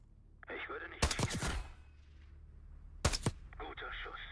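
Two short bursts of rapid gunfire in Call of Duty Black Ops 6, each a sharp cluster of close, loud shots about two seconds apart, separated by quieter game sound.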